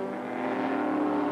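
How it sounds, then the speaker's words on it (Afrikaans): Henny van der Linde's BP Nissan race car sweeps past in a 1989 Wesbank Modifieds race at Kyalami, a loud, steady engine drone swelling briefly as it goes by, with no voices. "die BP Nissan van Henny van der Linde, kom hy daar voorbij"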